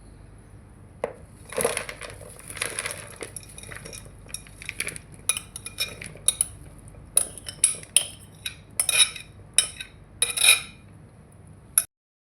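Salad with lettuce leaves tipped into a larger bowl: repeated clinks, scrapes and taps of a utensil against the bowl, close and irregular, ending in a sudden stop.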